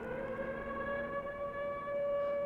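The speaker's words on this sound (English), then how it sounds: "the sound of the siren is carrying over between fucking shots" A siren in an old monster film soundtrack, a steady wailing civil-defense-style tone with clear harmonics, moderately loud and sustained, carrying on without a break.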